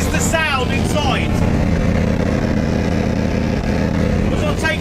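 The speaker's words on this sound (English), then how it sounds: "We've just started the car and this is the sound inside." A BMW E46 engine idles just after starting, heard from inside the car with its interior stripped and a door removed, a steady low drone throughout with a brief whistling squeal near the start.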